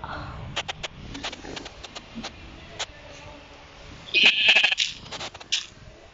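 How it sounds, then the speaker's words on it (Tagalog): Minecraft sheep bleat several times in short, sharp calls over a quiet game background, with a brief chime partway through. "Ayun, mga tupa."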